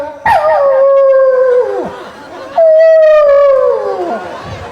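A stage performer at a show in Aurangabad imitates a dog howling at night with his voice, two long, loud, drawn-out wavering howls that slide downward at the end, the second following after a short pause.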